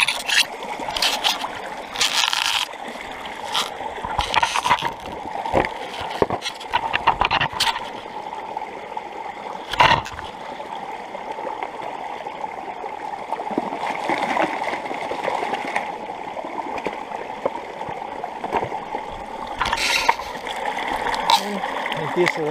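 Water rushes steadily through a sluice box while gold is being washed outdoors in San Luis, with a continuous close wash broken by scattered splashes and knocks. A voice can be heard at times over the flow.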